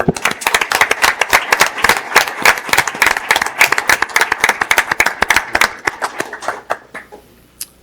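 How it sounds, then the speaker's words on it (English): An audience at a city council meeting claps for the mayor, a steady patter of many hands from a modest crowd that thins and fades out near the end. "Let's give him another round of applause."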